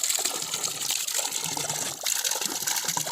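Natural spring water flows steadily in a remote Garhwal village, a close, continuous gushing trickle with bright splashing that stays at an even level throughout, with no voices.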